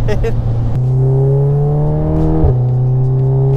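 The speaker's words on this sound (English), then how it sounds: "I love that shifting sound. Oh, just the clunk like the DSG with the exhaust." A tuned Stage 2 Volkswagen Golf R engine hums steadily with rumbling exhaust, broken by a sharp DSG gearbox clunk as the gear shifts, then the droning tone resumes at a new pitch.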